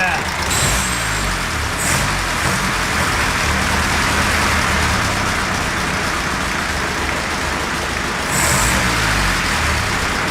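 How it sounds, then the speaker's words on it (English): A loud 100-year-old Austin 7 engine runs steadily and close, with a broad roar and a low rumbling throb from worn crankshaft roller bearings throughout, briefly rising in pitch twice. "There is a little bit of a low rumble from the crankshaft bearings, the roller bearings on the sides"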